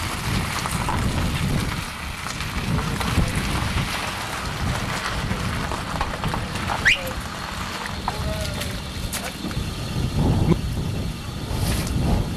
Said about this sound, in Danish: vinden er lidt tiltagende